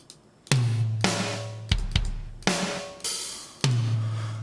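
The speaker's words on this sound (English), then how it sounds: "You've also got an acoustic drum kit" A big 80s-style acoustic drum kit plays a slow pattern of booming kick and snare hits, each ringing out with roomy reverb.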